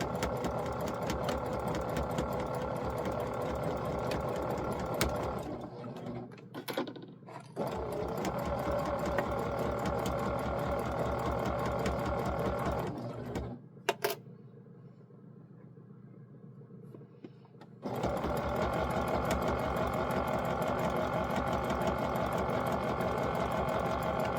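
A sewing machine stitching scrappy holiday towels runs in a steady rapid whir, pausing briefly twice before starting up again and running on at a constant pace.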